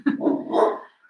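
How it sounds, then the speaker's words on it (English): A dog outside lets out a single short bark, a brief muffled woof at moderate distance with a slight whine at its tail, standing alone in a quiet room. "And now you hear the dog."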